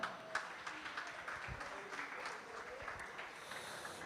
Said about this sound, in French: Je vous demande de les applaudir bien fort.